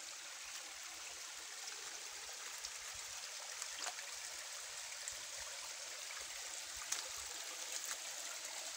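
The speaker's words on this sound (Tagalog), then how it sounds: "maliit na talon." A small forest waterfall rushes in a steady, even wash of falling water, continuous and moderately distant, with no voices over it.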